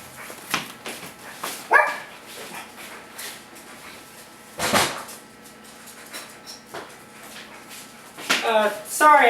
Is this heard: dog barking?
yes